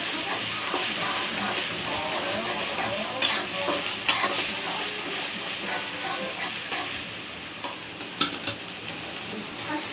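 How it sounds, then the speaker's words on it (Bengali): Onions frying with ginger, garlic, cumin, turmeric and chilli give a steady loud sizzle and stir, with occasional sharp clinks of a spoon against the pan throughout. "এখন আমার পেঁয়াজগুলো ভাজা হয়ে গেছে। আমি সব কিছু মশলা একসাথে দিয়ে দেবো।"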